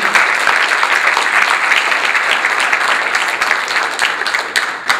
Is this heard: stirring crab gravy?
no